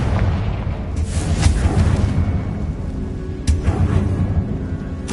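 A Confringo blasting spell explodes in Hogwarts Legacy with deep, booming blasts: one swelling burst near the start and a sharper crack later, over a dense rumbling game soundscape.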